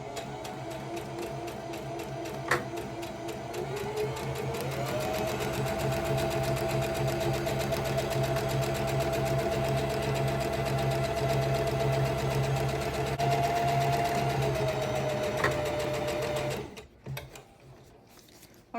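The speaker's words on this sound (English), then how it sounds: "I'll do a straight stitch all the way across the bottom." A sewing machine runs a long straight stitch across the bottom of a ribbon skirt, a close, steady rapid whirring hum that holds for many seconds before stopping abruptly, followed by a few faint clicks.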